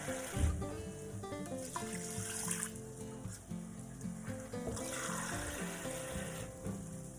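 Cold water runs steadily from a tap into a cup for several seconds, a continuous splashing rush with clinking and background music playing throughout.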